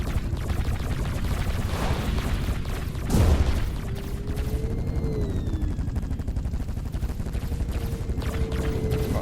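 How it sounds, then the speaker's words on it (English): Rocket explosions in the indie defence game Directive: Intercept, a continuous rumbling barrage of booms and gunfire-like bursts with one heavier blast near the three-second mark, dense and loud throughout. "Oh yeah, the rockets do damage"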